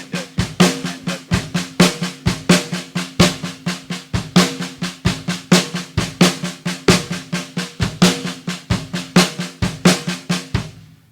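Drums played in a steady grouping of two fives followed by two threes, each stroke a crisp close hit, repeating evenly with an accented pulse and no voices.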